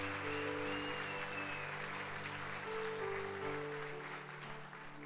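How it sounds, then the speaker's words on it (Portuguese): A church congregation applauds during a Sunday service, a steady wash of clapping from many people in a reverberant hall that holds through and fades slightly at the end, with a sustained musical tone underneath. "Dá um aplauso ao Senhor."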